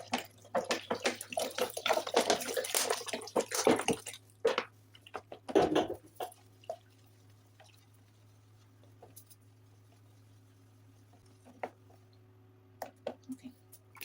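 Water being stirred into a homemade multi-purpose liquid wash in a container, with a burst of close sloshing and splashing in the first few seconds, then a brief swirl and scattered faint drips and clicks over a low steady hum.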